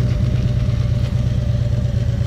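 A Harley motorcycle engine drones steadily during a morning commute toward Madison, a loud, close, unbroken low rumble with a constant pitch and no talking over it.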